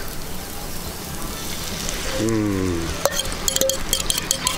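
Eggs poured into a hot pan for a rendang omelette give a steady frying sizzle; someone talks over it, and sharp clinks and scrapes of utensils follow near the end.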